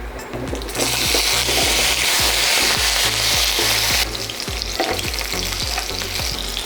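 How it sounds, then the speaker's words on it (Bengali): Potato pieces fry in hot oil with a loud, dense, continuous sizzle that rises sharply after the first second and holds steady, with regular low knocking from stirring underneath; no voices. "আমার তেলটা গরম হয়ে গেছে, তাহলে প্রথমেই আমি আলুটাকে ভেজে নিই।"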